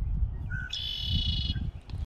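A brief, high bird chirp sounds outdoors from a kayak on the water, standing over a steady rumble of wind and water noise.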